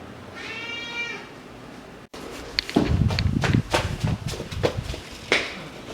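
A house cat gives a drawn-out, close meow at the start. A brief break follows, then a clutter of footsteps and light household knocks and shuffles.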